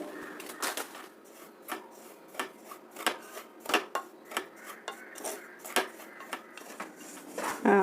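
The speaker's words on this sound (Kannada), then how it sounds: "ಈಗ ಮೊದಲಿಗೆ ರವೆನ ಹುರ್ಕೊಳ್ತಾ ಇದ್ದೀನಿ" Semolina (rava) dry-roasted in a pan, a close, irregular run of metallic scrapes and clinks as a spoon stirs the grains against the pan, with short quiet gaps between strokes.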